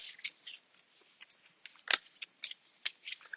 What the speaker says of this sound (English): so I'll shuffle these back